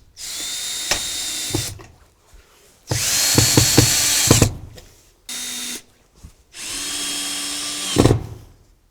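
Screws are driven through the pre-drilled outer holes of ClickLock gable clips with a power drill, in several loud whirring bursts of a second or two each, separated by short pauses and small clicks.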